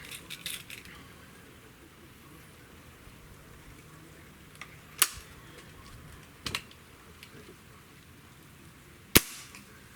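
A Hatsan air rifle fitted with a new piston seal gives three sharp, isolated snaps spaced a few seconds apart over a faint, quiet background, with no talking.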